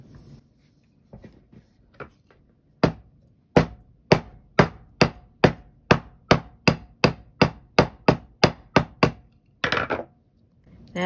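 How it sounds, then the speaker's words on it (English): A hammer pounding a twisted metal washer ring flat for jewelry: a few soft taps, then a steady run of about fifteen sharp, close, evenly spaced metallic strikes, ending with a brief clatter. "it's all twisty, I'm gonna pound it flat"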